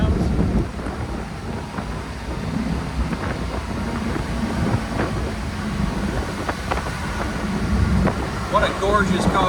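1967 Oldsmobile Cutlass convertible resto-mod cruising at 75 mph, a steady low engine and road drone with heavy wind rush buffeting the open cabin, with a voice talking over it.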